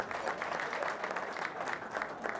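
Sustained applause from a studio audience at an Ethiopian TV entertainment show, a steady even wash of many hands clapping throughout, loud and alone without talk.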